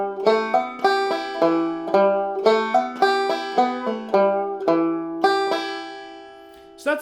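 A five-string banjo plays a two-finger picked melody line of Nine Hundred Mile, bright plucked notes in a steady rhythm with regular pinches on the fifth and first strings, close and clear with no voice.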